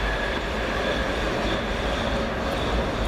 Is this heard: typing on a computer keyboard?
no